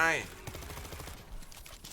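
An assault shotgun fires in the World War Z video game as a quick string of low, muffled blasts after a brief tonal in-game sound, moderately loud within the game's ambient noise.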